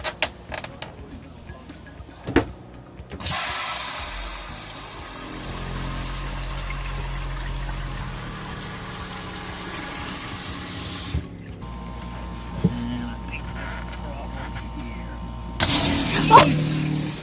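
On-demand pressurized water pump on a boat running and pumping water, a steady hum with rushing water that starts, runs for several seconds and stops, then restarts, with people talking nearby.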